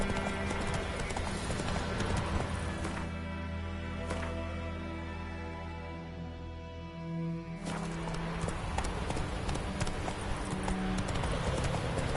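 Roach the horse gallops in The Witcher 3, rapid rhythmic hoofbeats pounding steadily and close throughout, thinning briefly midway before picking up again.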